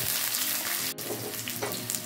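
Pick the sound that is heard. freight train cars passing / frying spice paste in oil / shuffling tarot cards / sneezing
frying spice paste in oil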